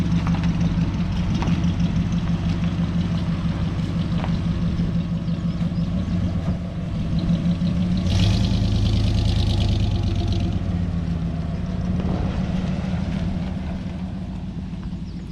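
A Hemi-powered 1939 DeSoto coupe idles steadily at close range, a deep, even low rumble with a faint lope and no voices, swelling slightly louder around the middle before settling back.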